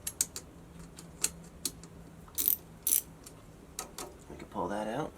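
A 1/4 inch socket ratchet loosens a bonding wire screw on a variable speed pool motor, giving several short, sharp clicking bursts up close with pauses between. A voice speaks near the end.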